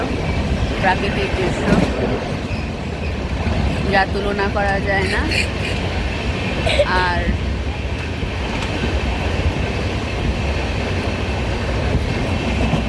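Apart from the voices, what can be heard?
moving passenger train on the Amritsar route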